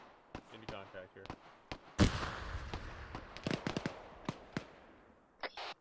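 Grenade explosions in an ArmA 3 infantry firefight: a heavy blast lands mid-way, surrounded by scattered sharp cracks and pops of nearby shots, with quiet gaps between.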